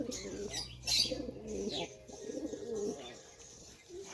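Pigeons coo in soft, repeated throaty bursts close by, with some chirps and a brief flutter mixed in, while a person talks quietly.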